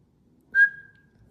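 A single short, clear whistle rings out, a bright steady tone that fades quickly into quiet.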